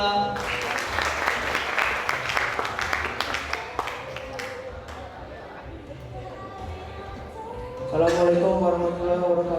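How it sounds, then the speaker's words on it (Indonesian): Audience applause at a school graduation and farewell ceremony, a dense patter of many hands clapping at moderate distance, fading while a voice talks and then swelling again near the end. "Kita sambut Arya dengan tepuk tangan yang meriah"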